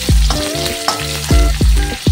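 Chopped onion and green chillies fry in a pan up close, a steady sizzle broken by repeated scraping stirs and metallic clinks of a utensil.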